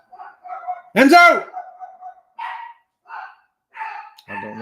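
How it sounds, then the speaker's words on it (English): Several short dog barks from nearby, spaced in bursts, with a person calling out loudly and talking between them. "And there goes the dogs."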